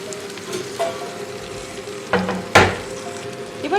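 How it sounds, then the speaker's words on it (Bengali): Fried potatoes tipped into a pan of oil cooked down with ground coriander and cumin for spiced potato curry, giving a steady close sizzle with a sharp crackling burst partway through and light stirring scrapes. "এবারে ভেজে রাখা আলুটা দিয়ে দেবো।"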